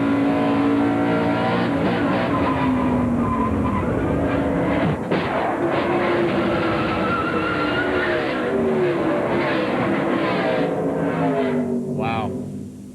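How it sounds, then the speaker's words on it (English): On-board sound from a NASCAR race car under caution after a crash, with a loud continuous engine roar and tire skid as the car slides across the track into the inside retaining wall, commentators talking over it. "just watch how quickly that car slid across the track and hit the inside retaining wall"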